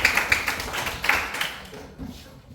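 Students in a classroom giving a short round of applause, a quick burst of rapid hand claps that fades out after a second or two.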